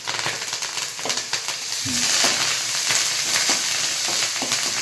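Garlic, green chillies and curry leaves frying in hot oil, a loud continuous crackling sizzle close by, with a brief stir or clink partway through.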